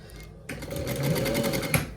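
A sewing machine stitches the shoulder seam of a hoodie, using a three-thread overlock seam. After a brief quiet start it runs in a rapid, steady close-up rattle and stops abruptly near the end.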